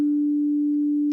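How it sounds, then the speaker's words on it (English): A pure sine wave synthesizer tone played from a keyboard in Ableton Live 12 holds one steady, clean pitch for about a second, with no overtones and no talking. "So sine wave sounds like this."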